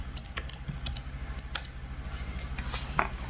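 Keys clatter on a computer keyboard while setting up an Ubuntu server, a quiet irregular run of light taps with a few sharper strokes, no speech.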